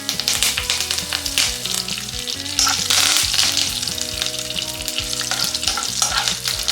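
Curry leaves and dried red chillies fry loudly in hot oil in a pan, a dense crackling sizzle with stirring scrapes running throughout, close and with no one speaking.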